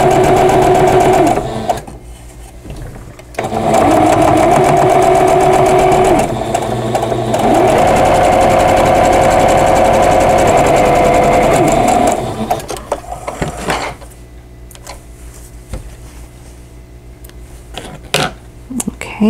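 A sewing machine stitches quilt table topper blocks in loud, steady whirring runs, first a short burst, then a longer stretch, before stopping for quieter handling of the fabric.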